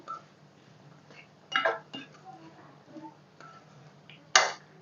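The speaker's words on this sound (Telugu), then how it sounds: "మనం వేగిన తాలింపులోకి క్యారెట్లన్నీ బాగా కలిసేటట్టుగా ఫ్రై చేసుకోవాలి" Carrot pieces are stirred through a tempering in a pan for a coconut carrot fry, with a few sharp clinks and scrapes of a utensil against the metal over a quiet background.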